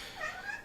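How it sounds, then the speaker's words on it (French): A house cat lets out a quick, faint meow, a short rising-and-falling cry in a quiet room. "là si vous entendez miauler, c'est mon chat."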